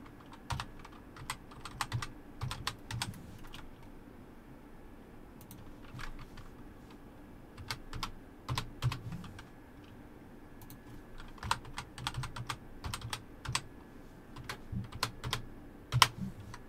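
A password is typed on a computer keyboard in bursts of crisp, close key clicks separated by short pauses, with no one talking.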